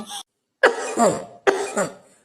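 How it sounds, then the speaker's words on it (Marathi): One short cough from a cold, then two harsh, loud coughs close by, each followed by a raspy trailing breath. "थंडीनं थंडीनं खोकला आला"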